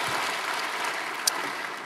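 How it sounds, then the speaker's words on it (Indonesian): A church congregation applauds during a sermon, a steady wash of clapping heard from a distance, even and moderately loud throughout, with one brief sharp sound near the end. "Berikan tepuk tangan kita untuk Tuhan kita."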